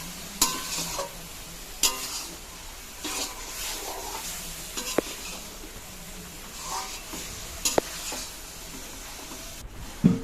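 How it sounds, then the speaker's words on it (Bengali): Cabbage with fried lentil dumplings (bori) being stirred in a pan over a soft sizzle, with occasional scraping strokes and a few sharp clinks of the spoon against the metal. "তারপর ভেজে রাখা বড়ি দিয়ে দিলাম, দিয়ে নাড়াচাড়া করে দিচ্ছি।"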